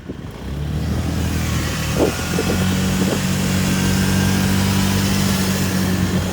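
A Honda Dio Brava 50 cc scooter engine drones steadily while climbing a ramp, a loud continuous hum with a slight rise in pitch, heard without talk.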